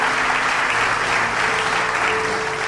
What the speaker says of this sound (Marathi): तर एक जोरदार टाळी पास्टरांसाठी.